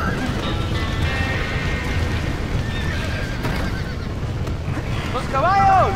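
Horses neigh and whinny amid a chaotic fire scene in the video game Red Dead Redemption, with hoof clatter and background commotion throughout and a loud, sharp whinny near the end, while voices shout over it.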